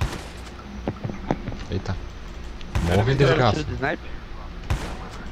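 In the mobile shooter Call of Duty Mobile, gunfire rattles in short bursts with a heavier booming stretch near the middle, while a player talks over the shots.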